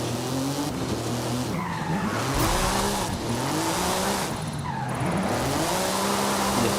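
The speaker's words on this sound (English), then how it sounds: "This e-brake really is coming in handy." Porsche drifting in the video game Forza Horizon 5, with repeated tire squeals and skidding over a steady engine drone, sweeping up and down in pitch as the car slides through corners with the handbrake.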